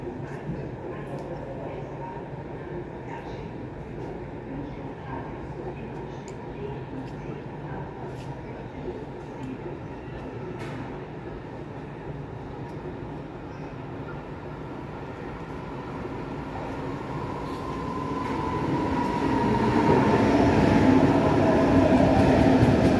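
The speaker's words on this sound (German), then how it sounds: "Vorsicht bei der Einfahrt." An S-Bahn train rolls into Munich's Donnersbergerbrücke station, a low rumble that swells steadily into a loud roar as it nears, with station announcements over the platform.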